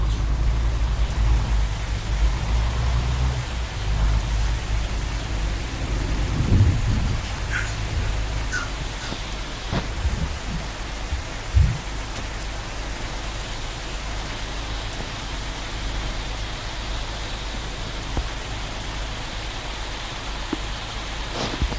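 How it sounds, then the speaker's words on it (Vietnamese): Steady rain hiss from the Truck of Europe 3 truck-driving game, a continuous broad wash with a low rumble beneath and a few brief thuds and clicks, no talking. "Mưa này."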